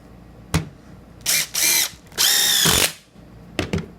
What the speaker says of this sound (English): Alright, I guess we'll try sinking one out with the impact driver.